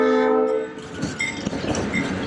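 The Polar Express holiday excursion train at the Medina Railroad Museum sounds a loud, sustained horn, then rumbles and clatters past close by as the wheels click over the rails.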